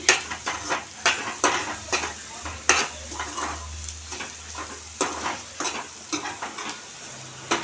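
Spinach and onion curry fries in oil in a pan while a utensil stirs and scrapes it in repeated rhythmic strokes over a soft, steady sizzle, close and fairly quiet, with no voices.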